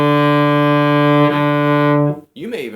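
A solo cello plays the closing notes of Old Joe: a sustained bowed note rings clearly for about two seconds, then stops, followed by a brief softer tone.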